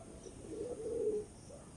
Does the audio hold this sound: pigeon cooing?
yes